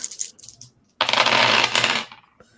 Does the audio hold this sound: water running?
no